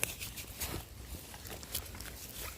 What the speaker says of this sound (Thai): ตอนนี้ฝนก็ยังตกอยู่ด้วยครับเด้อ